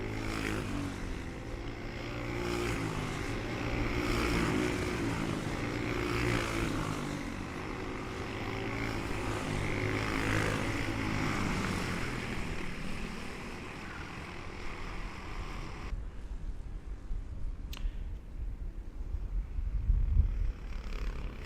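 Four-stroke racing kart engines at a Latvian karting championship round. They make a steady, droning, harmonic rumble that holds for about fifteen seconds, then thins out as the karts fade into quieter, uneven engine noise.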